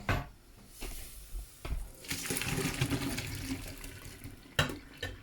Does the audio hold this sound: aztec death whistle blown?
no